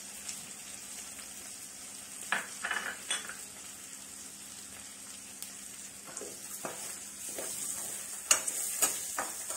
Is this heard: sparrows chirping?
no